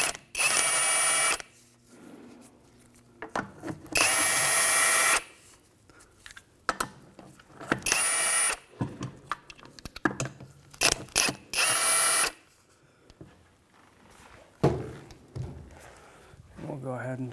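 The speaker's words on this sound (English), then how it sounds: "loosen up these lug nuts with a 19mm socket" Lug nuts on a 2011-2015 Chevrolet Cruze rear wheel are loosened with a 19mm socket, producing several loud bursts of rapid ratchet clicking separated by pauses, with softer clinks and handling noises between them, up close.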